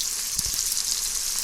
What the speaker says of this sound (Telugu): చూడండి, ఫ్రై అవుతున్నాయి. ఈ కాకరకాయ ముక్కలు వేగేలోపు